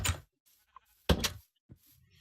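A sheep in the Minecraft video game gives a few short, clipped bleats, quiet and separated by brief silences.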